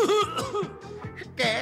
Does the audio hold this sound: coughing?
yes